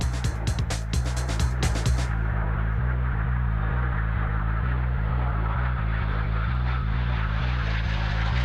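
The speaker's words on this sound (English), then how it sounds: "Next up was the fighting version of the JP, the Strike Master" A Strikemaster jet in Botswana Defence Force colours passes at an air show, a sustained engine drone with steady low harmonics, broken early by a few sharp clicks and rattles before settling into a smooth, continuous roar.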